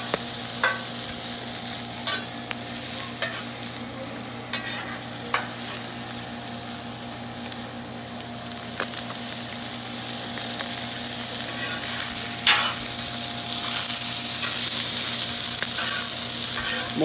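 Onions sizzle steadily in a hot pan, sharp scrapes and clicks of a utensil stirring them cutting through every few seconds over a constant hum, close and moderately loud, no talk.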